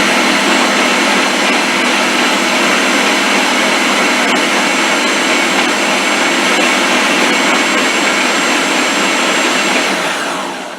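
A Ninja blender whirs loud and steady for about ten seconds, blending flour, sugar and salt into pie crust dough, and winds down slightly at the very end.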